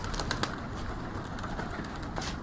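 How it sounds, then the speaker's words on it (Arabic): Young pigeons, about a year old, coo softly in a loft, their low repeated calls rising over a constant background hiss, with no talking. "طيور مخاليف، طيور هاي عمرها سنة بعد صغار."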